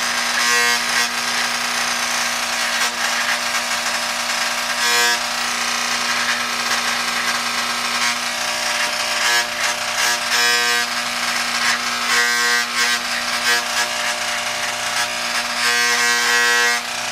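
An old pair of electric hair clippers shaving off a full beard, a steady buzzing hum with rough rasping and scraping passes as the blades cut through thick hair, close and constant throughout.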